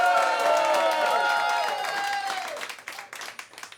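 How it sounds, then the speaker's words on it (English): An audience at a comedy gong show bursts into loud applause and cheering, dense clapping that fades into scattered claps over a few seconds. "please clap and cheer now"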